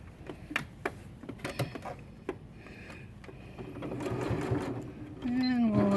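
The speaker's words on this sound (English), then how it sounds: "This is lined up nicely, and then we're going to start sewing again." A sewing machine stitches around the edge of a finished quilt. Scattered clicks and handling come first, then the motor starts up into a steady close whirring run, with a voice talking briefly.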